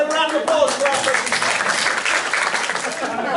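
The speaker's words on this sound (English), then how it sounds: "A little round of applause for our person." An audience at a close-up magic show gives a warm round of applause, a dense, loud clapping that holds steady throughout, with some voices mixed in.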